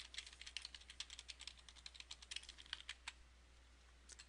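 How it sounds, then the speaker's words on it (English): Quick, close clicking of a computer keyboard as a title is typed into a calendar event, a rapid run of keystrokes trailing off into a couple of final taps, with no talk. "So I click on the 13th and type in the title."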